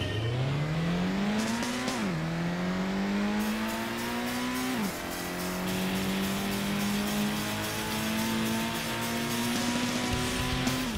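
A Mitsubishi racing in the PlayStation 1 Gran Turismo, its engine revving up steadily through the gears with two clear shift drops, loud and continuous with faint tire noise beneath.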